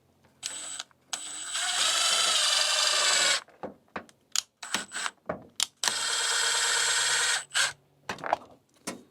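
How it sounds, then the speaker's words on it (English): A power screwdriver drives a screw into vinyl shake siding on a house gable end, two long, steady whirring bursts with clicks and handling knocks in between, close and fairly loud. "so we'll put a screw up in here"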